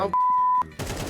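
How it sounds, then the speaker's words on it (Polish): Gunfire in the video game Counter-Strike 2 breaks out as a short, sharp burst near the end, after a steady electronic tone with a couple of clicks. "słychać strzały"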